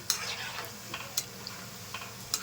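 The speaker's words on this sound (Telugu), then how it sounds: "ఇలా కలుపుకుంటూ ఉంటే అన్ని పక్కల ఈవెన్గా వేగుతాయి పునుగులు" Punugulu fritters made from leftover idli batter sizzle in hot oil while a utensil stirs them, giving a steady frying hiss broken by small, regular scraping ticks close by.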